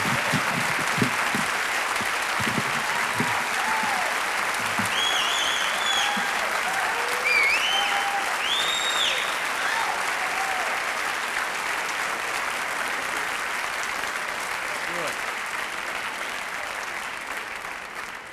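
Audience applause in a room at a school's opening day presentation, a sustained steady clapping that continues for the whole stretch at moderate loudness, with faint cheers near the middle.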